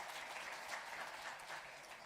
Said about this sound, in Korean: 네, 박수로 환영할까요?